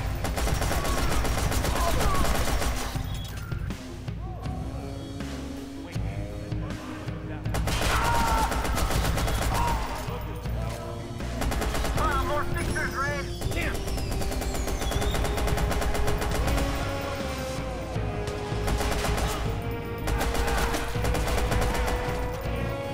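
Gunshots from a sniper and other weapons in the video game Watch Dogs: Bad Blood, steady shooting mixed under music and a speaking voice.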